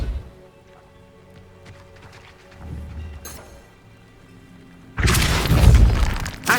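A Depulso spell cast in Hogwarts Legacy hits with a sudden heavy boom and crash after several quiet seconds of faint game ambience and small thuds, the impact loud and lingering.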